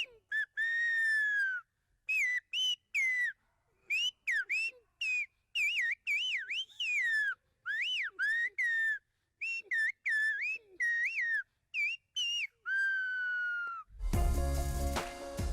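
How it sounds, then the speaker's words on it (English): Silbo whistled language, people talking to each other in whistles: bursts of piercing, gliding whistled phrases with pauses between them, clear and fairly near, ending with a short noisy rumble. "showing these people communicating via whistles"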